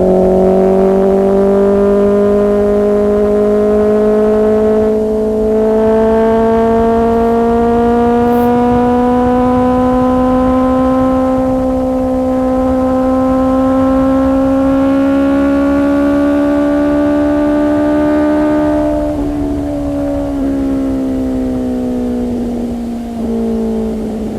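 A Honda CBR 650R motorcycle engine hums loudly and steadily while riding out on a group trip, its pitch rising slowly and then dropping near the end.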